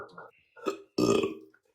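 Someone burps loudly into a microphone. A long, rough belch is heard close up after short bits of muffled talk and vocal noise.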